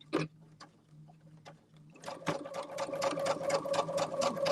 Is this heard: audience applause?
no